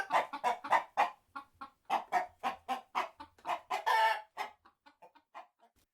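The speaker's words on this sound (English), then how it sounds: "those are chickens." Chickens cluck in a quick, uneven series of sharp calls that come close and fairly loud, with short gaps between them and no one talking.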